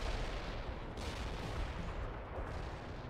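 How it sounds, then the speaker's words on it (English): Artillery barrage in the video game World in Conflict, a dense continuous rumble of distant blasts and booms rolling together at low volume. "Artillery firing."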